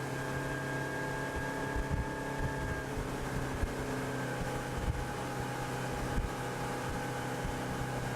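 A Hunt 24 motorboat with a Yanmar engine accelerates from a standing start to 27 knots, giving a steady, loud engine drone with rising harmonic tones and constant water and wind rush throughout.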